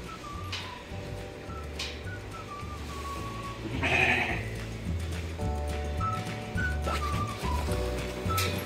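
Shetland sheep on a winter farm bleat repeatedly, several short calls scattered near and far over a low rustling background, with one louder bleat in the middle.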